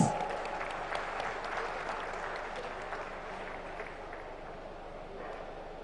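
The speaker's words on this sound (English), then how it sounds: "Can we begin this event with a big round of applause?" A crowd applauds steadily, a dense wash of clapping that starts loud and slowly tapers off over several seconds.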